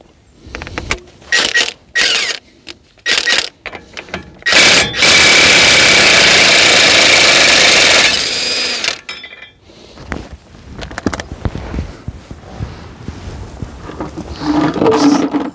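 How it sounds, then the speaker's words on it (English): Removing a 32mm axle nut on a Ford Ranger hub brings bursts of loud impact-wrench hammering, then a long sustained rattling spin and scattered metallic clinks of tools, all up close. "Next thing we'll do is take this axle nut off, and it's 32mm."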